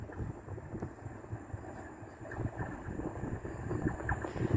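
A ScotRail Class 170 diesel multiple unit running the Arbroath to Edinburgh Waverley service passes through North Queensferry, giving a steady low rumble that builds slightly toward the end, with wind buffeting the microphone and no talk.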